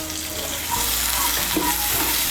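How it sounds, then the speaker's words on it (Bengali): Ginger-garlic paste and spices fry in a pan for egg korma, a dense, loud, continuous sizzle with a brief stirring scrape in the middle. Nobody speaks. "তাই মশলাটা দেওয়ার পর একটু করে ভেজে নিতে হবে।"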